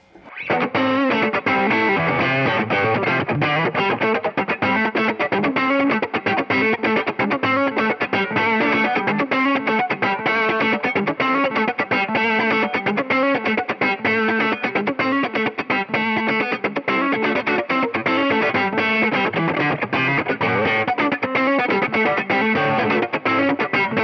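Electric guitar played through a distortion effects pedal, a continuous, dense riff with chorus-like shimmer, loud and steady throughout with no talking.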